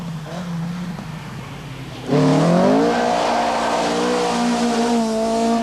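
Opel Manta Group B rally car powering out of a slippery corner on the 1985 Hellendoorn rally, its engine revving hard with a rising, climbing note after a sudden loud jump, close and continuous.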